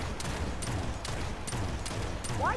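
Rapid gunfire in the Realm Royale video game, a steady string of close, sharp shots at roughly half-second intervals over a dense, noisy backdrop.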